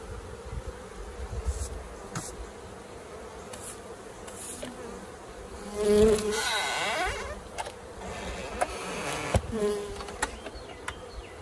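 A honey bee swarm buzzes steadily and densely throughout a transfer into a Layens gable-roof forestry hive, close and continuous, with a few louder surges as bees fly past near the listener.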